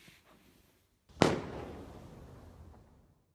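1.4G Firework King Sky Attack rocket going off, a single sharp bang followed by a crackling, fading tail lasting about two seconds, moderately distant and alone.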